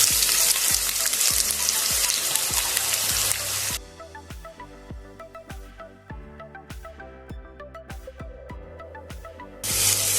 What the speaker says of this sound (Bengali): পেঁয়াজটা ভালো করে লালচে করে ভেজে নেব